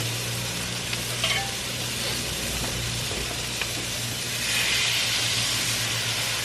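Sausage for breakfast smash burgers sizzles steadily on a Blackstone griddle, a loud continuous frying hiss with a few scraping stirs and a swell of steam near the end, no talking.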